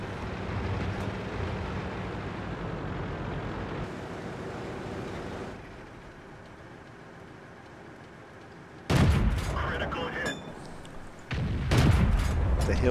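Tank cannon shots in World of Tanks on the Malinovka map arrive as two sudden, loud booms in the later half, each followed by a rumbling decay, set against a softer hum of game ambience and engine noise.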